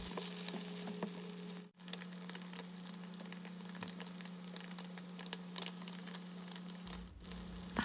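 Imitation crab sticks pan-fried until crisp in oil for homemade gimbap give off a steady, close sizzle with dense crackling and spitting, and no one talks over it.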